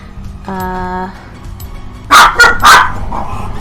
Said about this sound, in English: Excuse the dogs again